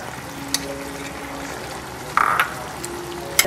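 Caramelized pork belly cooks in a hot pot just after fish sauce is poured in, giving a steady low sizzle and bubbling with a brief louder burst of frying partway through.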